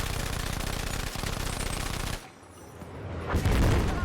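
Rapid, loud rifle fire from the 1912 weapon in the shooter game Battlefield V, a dense burst of shots that breaks off abruptly into quieter ambience, followed by a heavy boom near the end.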